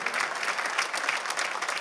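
A church congregation claps together in a brief burst, a dense, even patter of many hands at moderate volume with no voices over it.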